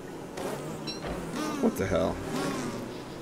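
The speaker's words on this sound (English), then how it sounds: "Killer bees will follow you" Killer bees from Don't Starve Shipwrecked give a steady insect buzz throughout, partly under a player's brief startled remark.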